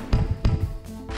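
Fireworks launching in the Fireworks Simulator game, two sharp close thumps about a third of a second apart followed by a rising whistling hiss, alone without talk.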